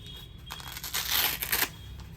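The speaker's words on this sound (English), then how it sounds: "take the Velcro strip off" A Velcro strip rips off a motorcycle jacket vent in one rough tearing pull lasting about a second, loud and close, with faint crinkling around it and no talk.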